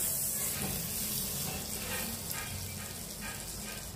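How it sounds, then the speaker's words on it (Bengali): Butter sizzling and crackling on a hot grill pan as a brush spreads it around, a steady close hiss with faint scraping strokes throughout. "এবার একটা গ্রিল প্যান বসিয়ে নিয়ে দিয়ে দেব বাটার।"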